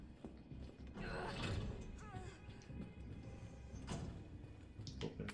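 A door opens in the video game Resident Evil 3 remake with a creaking, grinding mechanical sound, quiet and layered with faint clanks and a soft voice.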